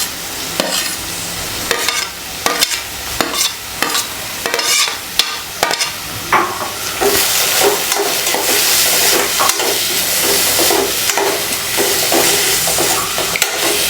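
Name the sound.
onions sautéing in a pan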